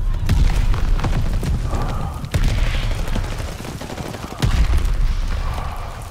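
Mortar barrage in a multiplayer shooter video game, a dense run of booming blasts and rattling gunfire that swells in two loud surges, with heavy low rumble throughout and faint voices mixed in.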